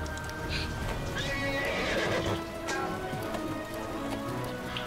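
A horse in a video game neighs and whinnies over clip-clopping hooves, close and fairly loud, with a soft rain-like background.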